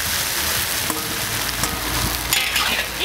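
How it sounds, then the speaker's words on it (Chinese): Pig trotters go into a wok with chopped chillies for sour-soup pig's feet and stir-fry with a loud, steady sizzle. Occasional scraping knocks cut through the hiss, close and with no speech. "再把这个猪脚下锅"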